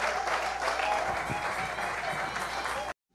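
A church congregation applauding in a dense, steady wash of clapping with voices mixed in, running loud for about three seconds before cutting off abruptly.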